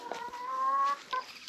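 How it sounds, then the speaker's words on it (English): A rooster and his hens cluck and murmur in a farmyard, a short close burst of soft throaty calls with one longer drawn-out cluck in the middle. "here's my main rooster hanging with the girls"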